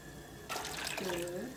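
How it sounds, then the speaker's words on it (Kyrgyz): Water pours from a measuring cup into a pot while preparing ramen, a short steady splashing pour that starts partway through, with a voice briefly counting over it. "7 порция үчүн 7 чыны сууну өлчөп куюп алабыз."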